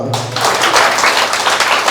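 An audience bursts into applause, a dense, loud wash of many hands clapping close by that begins abruptly and carries on evenly throughout.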